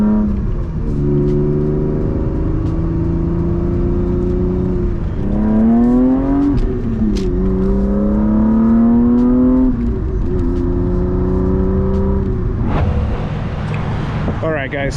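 A BMW E36 with idle problems drives and gets up to speed, its engine droning loud and close, rising in pitch through the gears and then dropping back off.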